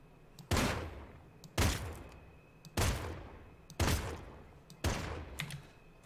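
Five evenly spaced gunshots from the video game Worlds Adrift, fired at a big fly, each a sharp loud crack with a decaying boom, about one second apart with quiet gaps between.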